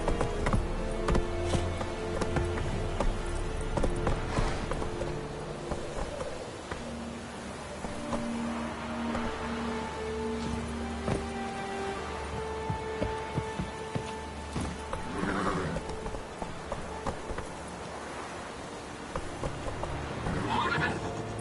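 Roach, a horse in The Witcher 3, gallops with rhythmic hoofbeats through a game soundscape and lets out several neighs and whinnies, with music and ambient game sounds underneath.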